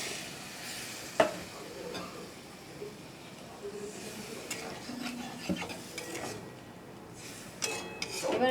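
Water added to frying spice paste in a pan for a prawn and taro stolon curry, a soft hissing sizzle with occasional utensil scrapes and clinks against the pot, fairly quiet and close.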